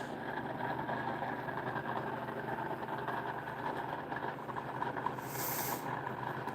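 A homemade air-core pulse motor running at about 1500 RPM, a steady faint hum with an even rapid pulsing that holds constant throughout, no talk.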